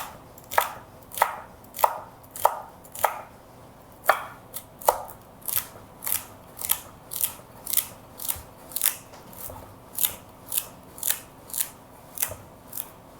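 A knife chops celery and shallots on a cutting board in crisp, evenly spaced strokes, about twenty cuts that speed up after a brief pause, close and clear with no talking.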